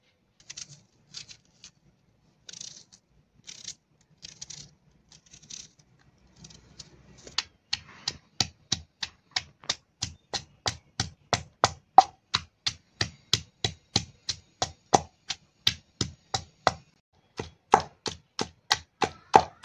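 Onions being chopped or pounded for kachalu kofte, a steady run of sharp, close knocks that start sparse and irregular, then settle into a quick, even rhythm, loud and alone with no talk.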